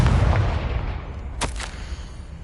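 A Confringo spell blast in the Hogwarts Legacy video game, a sharp burst near the middle followed by a quick second crack over a low rumbling background.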